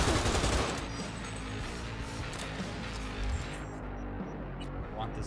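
The player's gun firing in Cyberpunk 2077, a dense rapid burst of automatic shots up front settling into continuous clattering gunfire, with a voice talking over it.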